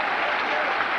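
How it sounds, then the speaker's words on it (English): Bristol Rovers fans applaud in a football stadium at a 1992/93 League Cup match against Manchester City, a dense, steady burst of clapping with a commentator talking over it. "A great applause"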